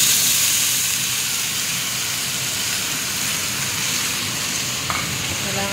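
Vegetables stir-frying in a pan for Chinese-style cooking give a loud, continuous close sizzle and hiss with faint stirring scrapes and no talking.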